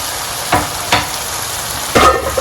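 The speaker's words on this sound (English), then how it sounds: "And stir everything in." Washed rice being stirred into curry powder in a pot for coconut curry rice, with three distinct scraping stir strokes over a low background sizzle and no talk.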